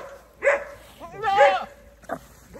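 A dog on a Jamaican farm barks and yips in a few close, loud bursts with whiny tonal edges, separated by short pauses.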